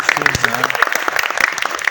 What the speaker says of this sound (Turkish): Alkışlayın lan.